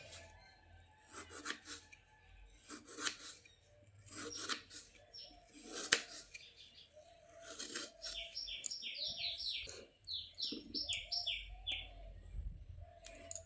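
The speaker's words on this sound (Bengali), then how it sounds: "প্রথমে আমি আলুটাকে এরকম একটু চাকা চাকা করে কেটে নিচ্ছি।" A knife slices a potato into round pieces on a board, making a run of rhythmic rasping, scraping strokes, close by, with birds chirping in the background.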